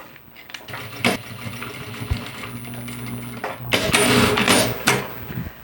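A sewing machine stitches a fabric travel handbag in short mechanical runs with clicks and knocks between them, loud and close, with a stronger stretch of stitching near the end.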